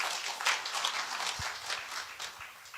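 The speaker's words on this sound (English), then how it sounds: "Another applause to the Chair." An audience claps at a TVET centenary celebration at Kabete National Polytechnic. The applause is a faint, continuous patter that lasts the few seconds with no speech.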